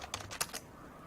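Quick burst of about five clattering keystrokes on a computer keyboard, close and crisp, followed by quiet after roughly half a second.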